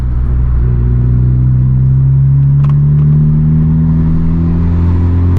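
A 2021 Honda Civic Type R heard from inside while driving, a loud steady engine drone and road rumble that rises slowly in pitch as it accelerates, with no talk.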